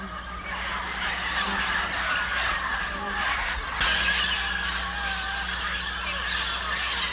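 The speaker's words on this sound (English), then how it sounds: "The smaller parrots arrive first." A crowd of small parrots calls steadily at a river clay bank in Manu Park, Peru, with dense overlapping shrill squeals and chatter that runs on throughout.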